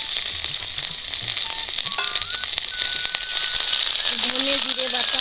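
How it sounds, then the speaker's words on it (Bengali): Whole spices for a tempering fry in hot oil: a bay leaf, a dried red chilli, cinnamon and green chillies. A loud, steady sizzle continues throughout, with a few scrapes and faint background voices and tones. "ফোড়ন দিব, একটা তেজপাতা, একটা শুকনো লঙ্কা, দারচিনি, কালো ফল, কাঁচামরিচ"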